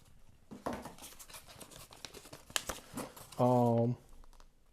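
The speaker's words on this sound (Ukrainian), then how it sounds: "Він був загорнутий ось в такий конверт." Crinkly paper envelope wrapping from a perfume is handled close up, with short rustling and crumpling bursts scattered across the moment while someone talks over it.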